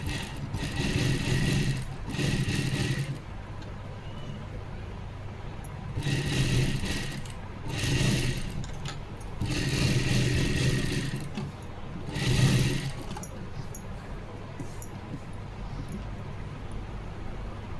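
Sewing machine stitching a blouse piece together with its lining, running in several steady whirring bursts of a second or two each, separated by short pauses, close and fairly loud.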